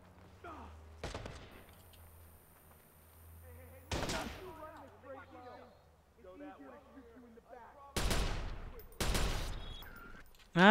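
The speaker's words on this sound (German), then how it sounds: "Ach, das ist ein MG" Gunfire in Watch Dogs from a scoped machine gun: several loud, sharp bursts, two of them close together near the end, with someone talking quietly in the gaps between them.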